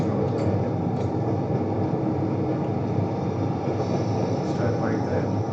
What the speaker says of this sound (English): So look at that, the train is moving.